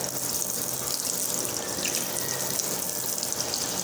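A tap runs steadily while hands are washed, giving a close, continuous gush of water without pause and no audible speech.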